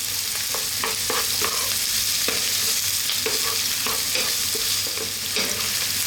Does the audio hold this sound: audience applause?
no